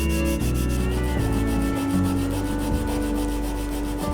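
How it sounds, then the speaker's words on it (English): Wood being hand sanded on a DIY charging stand, with glue-and-sawdust filled repairs, makes a continuous close rubbing rasp of quick, even back-and-forth strokes, steady and loud without pause. "smoothed it all out with some glue and sawdust and sanded it all down"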